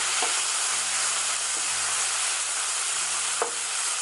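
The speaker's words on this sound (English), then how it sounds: "now I'm just mixing everything around" Pepper steak sizzling steadily in a frying pan while being stirred, a loud continuous hiss with a low hum beneath and occasional brief scraping clicks as the mixture is moved around.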